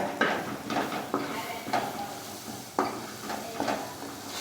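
Hill garlic fries in a pan while a spoon stirs it. Several sharp clanks of metal against metal ring out over a soft, steady sizzle.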